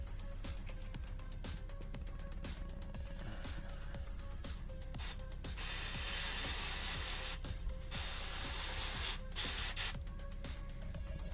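An airbrush sprays base paint onto a 1/35 Fennek model in steady hissing bursts, with a faint rhythmic ticking underneath and louder, broader spray passes in the latter half.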